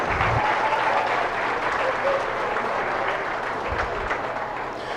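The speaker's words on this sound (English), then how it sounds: "Hey, let's give these seniors a big round of applause." Applause for senior exhibitors at a 4-H and FFA beef showmanship and steer show, a broad, even wash of clapping from a crowd that holds steady throughout, slightly distant and unbroken.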